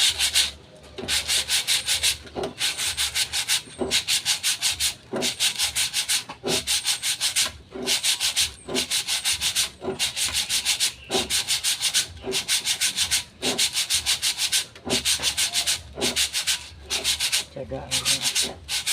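Sandpaper is rubbed by hand against a car brake drum in a home machine shop, loud steady strokes repeating in a regular back-and-forth rhythm with brief pauses between them.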